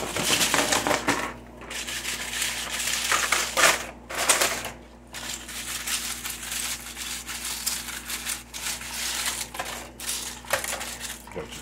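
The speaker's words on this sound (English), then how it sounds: "So I'm gonna pour some chips into a bowl." Tortilla chips poured into a bowl, a crisp, continuous rattling and crunching clatter that keeps going close by for several seconds, swelling and easing as the chips spill in, with faint talk underneath.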